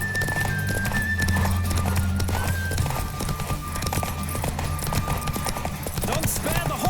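Hooves clip-clop in a fast steady gallop from the horse Roach in the video game Witcher 3, loud and close, with game music tones and occasional voice lines over the rhythm.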